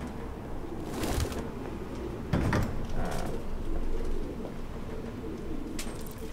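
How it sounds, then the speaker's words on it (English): Pigeons coo repeatedly through a stinking, abandoned interior in the video game Detroit: Become Human, their soft calls layered over a steady low ambient rumble with a few louder rustling bursts, and no one talking. "So many birds."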